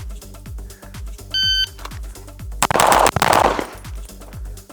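A ported Limcat Wildcat Tracker pistol fires a rapid, steady string of loud, close shots that repeat rhythmically. A beeping shot timer sounds partway through, and a burst of noisy clatter follows.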